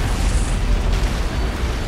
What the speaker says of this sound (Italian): Direi una carica antimateria.